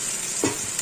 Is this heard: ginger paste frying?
yes